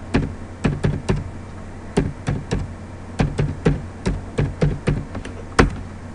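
Keys clatter on a computer keyboard while an SSH command is typed, a close series of sharp separate clicks in an irregular rhythm with short pauses, about twenty strokes in all.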